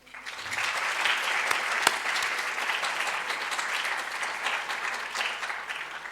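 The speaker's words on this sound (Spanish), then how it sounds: "voy a pedir un aplauso para ustedes mismos" Audience of participants at a winter science school event in Punta Arenas applauding themselves, a full, even round of clapping that swells quickly and holds steady, with one sharper clap standing out.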